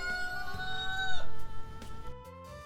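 A mixed-breed hen, an Australorp and Buff cross, gives a few short clucking calls amid a tonal, ringing background, fairly close and without talk.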